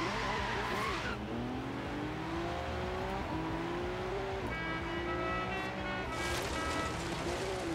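A Nissan GTR race car in Forza Horizon 3 roars continuously as its engine climbs and shifts through rising revs, with tire squeals and skids over the top, loud and close throughout.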